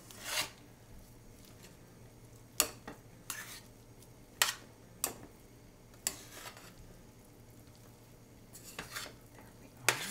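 Risotto ingredients with cooking cream and garlic are stirred in a pan, soft scraping punctuated by several sharp utensil clinks against the pan at irregular intervals.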